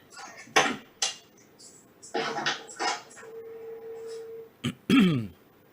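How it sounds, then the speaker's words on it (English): A man clears his throat several times in a garden setting, with short rough bursts separated by pauses, close to the microphone, along with a few clinks and a brief steady tone. "let me clear my throat here"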